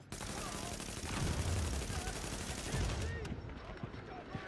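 Rapid SMG fire in a video game, bursts crackling close and loud through most of the moment with brief gaps; no one speaks over it.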